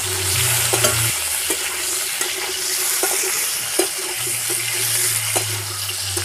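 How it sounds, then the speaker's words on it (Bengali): Potatoes with salt frying in a pan for a paneer curry, a steady bright sizzle with intermittent stirring scrapes and clinks of a utensil, close and continuous. "এর মধ্যে সামান্য পরিমাণ লবণ দিয়ে দেবো, ভালো করে ভেজে নেব।"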